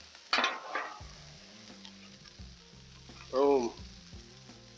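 Hash browns fry on a flat-top griddle with a steady crackling sizzle, broken by a few scraping strokes and a brief spoken word in the middle.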